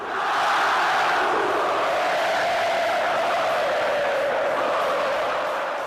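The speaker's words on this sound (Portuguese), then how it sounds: "Festa da torcida" A large crowd of Cruzeiro football fans roars and chants together in a sustained wave of cheering, loud and steady, filling a stadium.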